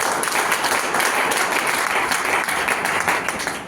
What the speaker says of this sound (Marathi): खरंच गोंद्रे मॅडम एकदा जोरदार टाळ्या वाजवा